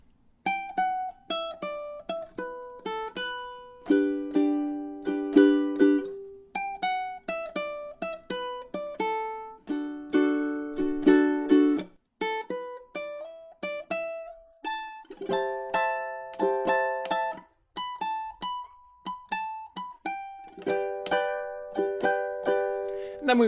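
Fingerstyle ukulele plays melody B of a cheerful summer tune across measures 9 to 16, plucked notes and strummed chords ringing clearly in a steady rhythm, close and alone.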